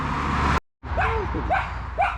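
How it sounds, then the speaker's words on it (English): A dog gives three short barks spaced about half a second apart, heard at moderate distance near a railway station after a brief gap in the background noise. "Featuring a barking dog."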